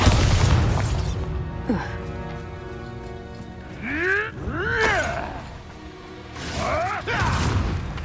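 A Bombarda explosion spell is cast in the video game Hogwarts Legacy, producing deep booming bursts with swooping tonal effects over a rumbling game soundtrack, while a voice speaks briefly.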